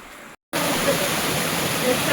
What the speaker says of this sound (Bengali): এই হলো ঝর্ণার ভেতরে আরেক ঝর্ণা।